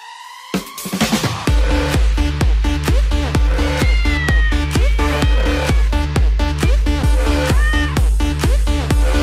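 Cats meow over and over on top of a loud, steady thumping beat. The meows come in a regular rhythm all the way through.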